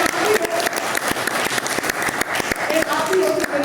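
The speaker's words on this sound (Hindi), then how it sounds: "ताली बजा दे" A seminar audience at a sales training talk applauds, a dense patter of many hands clapping steadily and fairly loudly throughout, with a voice speaking over it.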